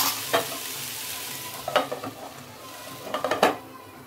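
Stuffed brinjal curry sizzling quietly in a pan on the stove, with a soft steady fry broken by a few scraping stirs of a spoon against the pan.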